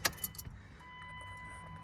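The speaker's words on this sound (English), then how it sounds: "So we're gonna put the key in. If I can get the key in." A bunch of keys jangles and clinks in quick bursts as a key is worked into the ignition of a high-mileage pickup truck, fairly close, followed by a faint steady hum.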